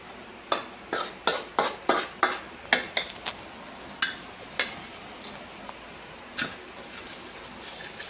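Spoon clinks sharply and repeatedly against a vessel while ginger avakaya pickle is stirred with its tempering, a quick uneven rhythm of a dozen or so taps that thins out toward the end.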